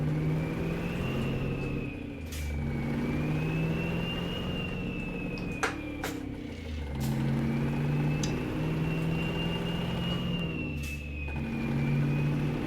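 A Mack F700 truck with a Fruehauf 5000 tanker in American Truck Simulator, its engine droning and revving steadily with rising whine sweeps, held alone and fairly loud throughout.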